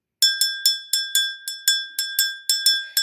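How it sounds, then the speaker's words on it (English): A small bell is rung before a card reading, about a dozen clear ringing strikes in steady rhythm, close and bright, each decaying before the next, with no talk. "anytime I do a reading, you know that I always ring this bell for guidance"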